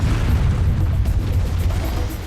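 A cannon booms in Donkey Kong Country Returns, a loud, dense low rumble sustained throughout with no talk.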